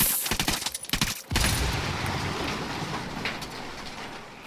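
Rapid bursts of gunfire from the shooter game Ghost Recon Wildlands crackle sharply for about a second, then fade into a dense, sustained rumble of background noise.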